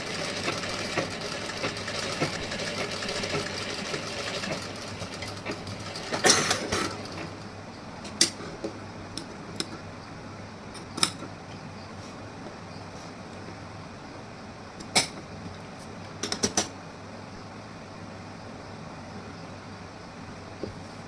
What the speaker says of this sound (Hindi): इस तरीके से फोल्ड करके मैं स्टिचिंग थोड़ी कर दे रही हूँ।